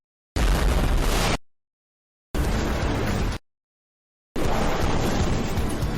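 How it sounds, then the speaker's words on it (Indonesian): Three loud blasts of explosives used to blast fish, each lasting about a second, separated by stretches of complete silence. "Gagal memancing, malah mulai meledakkan ikan."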